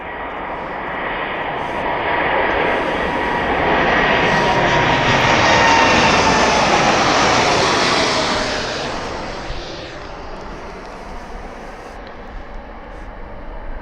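A fixed-wing airplane takes off from the runway at East Midlands Airport, its engine roar building to a loud sustained peak, then fading as it climbs away, with no talk.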